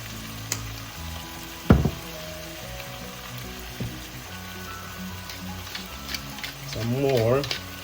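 Sliced daikon radish sizzling in a hot pan as fish sauce is added for Filipino kilawing labanos, a steady frying hiss with a sharp clatter and a voice talking over it.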